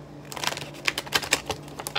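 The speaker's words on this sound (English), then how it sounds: "I just wanted to shuffle these a little bit, pre-shuffle before we get into it." A deck of tarot cards is shuffled by hand in a quick series of crisp, close riffling clicks and flutters, uneven in rhythm, with no voice.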